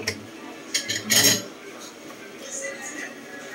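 Dishes and cutlery clinking and clattering as they are washed by hand, with a few sharp knocks followed by a dense burst of clatter, while a person talks nearby.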